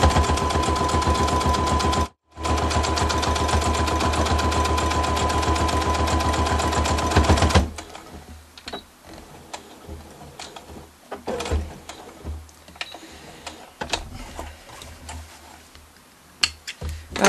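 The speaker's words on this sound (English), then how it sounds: "I'm just sewing all the way around." Sewing machine stitching all the way around the edge of a fabric face mask, a loud rapid mechanical chatter that runs steadily, briefly stops, resumes, then gives way to quieter handling clicks and soft movement.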